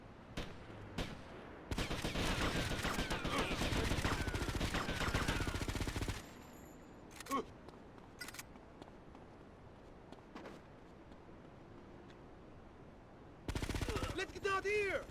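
Bursts of gunfire from Grand Theft Auto: Liberty City Stories, with heavy sustained volleys and sharper isolated shots scattered between quieter stretches, and a voice talking over the action.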